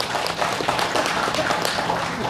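Audience applause at a Korean sijo literature forum on filial piety culture, a dense, steady patter of many hands clapping through the whole stretch.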